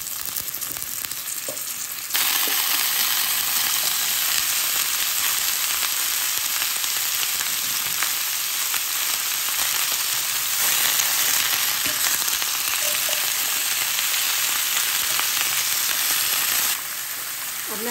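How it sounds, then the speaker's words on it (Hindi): Cut pumpkin fries in a pan with panch phoron and chillies, giving a loud, continuous sizzle that surges as the pieces go in and stays steady throughout. "अब मैं इसमें ये कद्दू जो काटा हुआ है वो डाल रही हूँ।"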